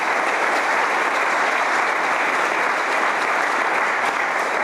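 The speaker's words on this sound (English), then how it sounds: "Also, a big round of applause, please, for Gretchen Whitebrecht for all that she did for putting together this celebration this evening." An audience at a college Hall of Fame evening ceremony claps in a dense, steady round of applause, loud and continuous for several seconds, with no talking.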